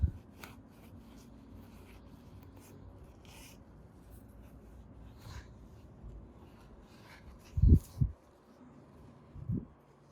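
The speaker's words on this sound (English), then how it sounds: "I'm gonna go through, dry it off, really get it dry" Soft paper towel rubbing and wiping along a door seal to dry it, quiet and close, with scattered light scuffs and a few louder handling bumps near the end.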